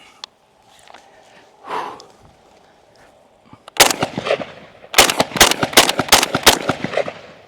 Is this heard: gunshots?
yes